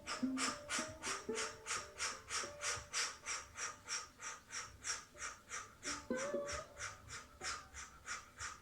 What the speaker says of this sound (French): c'est des petits souffles où on vient rechercher une micro-inspi pour pas s'étouffer